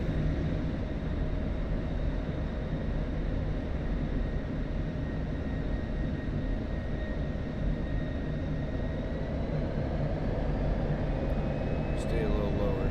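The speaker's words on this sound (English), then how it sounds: "Do one more flyby," A jet aircraft in a combat flight simulator game drones with a steady, close engine roar that holds evenly for thirteen seconds, and faint voices seem to sit beneath it.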